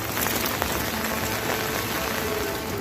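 Heavy monsoon rain pours steadily in Uttarkashi, a dense, continuous hiss of water on surfaces with no voices.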